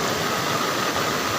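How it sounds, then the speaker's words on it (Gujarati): Floodwater rushes along the Bhadar river near Dhoraji after heavy rain, a dense, unbroken roar that stays loud and even throughout. "આ તમે જોઈ રહ્યા છો કે ધોરાજીના ભાદરજાળિયા નદીમાં પાણી ખૂબ"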